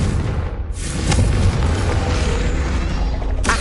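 A Confringo blasting spell goes off in the video game Hogwarts Legacy: a loud, deep booming blast that swells and rumbles on for several seconds, with a sharper burst near the end.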